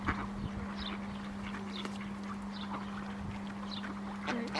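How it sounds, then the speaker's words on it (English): A narrowboat chugs past on the Hinckley canal with a low, steady engine hum running throughout, quiet and unhurried, while ducks quack briefly now and then in the background. "Here comes another boat. Notice how quiet it is."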